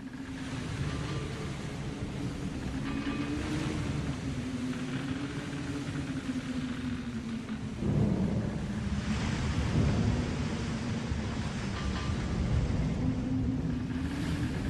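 A storm at sea with a steady, heavy roar of wind and surging waves, a deeper low rumble swelling partway through like distant thunder, continuous and loud throughout.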